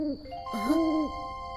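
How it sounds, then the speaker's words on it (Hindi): An owl hoots in two smooth, wavering calls, a brief one and then a longer sustained hoot, heard fairly close over a steady ringing tonal background, typical of a cartoon soundtrack. "ये एक उल्लू की आवाज है।"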